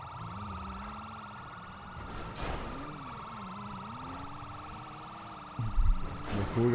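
In the video game GTA 5, a police car siren wails in a slow rising and falling tone throughout, moderately faint beneath game noise and a few louder bumps near the end.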